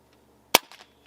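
A JTS Airacuda Max .177 air rifle fires a single shot at an airgun expo, a sharp, close crack with a brief metallic ring-off and otherwise quiet surroundings.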